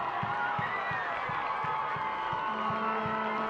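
A capacity home crowd at a boys' high school soccer championship final cheering as the Warren Bears win on their home field, a dense continuous roar with steady rhythmic thumps underneath, voices throughout.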